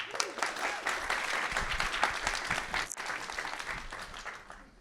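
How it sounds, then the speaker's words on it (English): Audience applause for a speaker at a design talk, a steady, fairly quiet patter of many hands that continues for several seconds and slowly fades. "Please, round of applause for Zain."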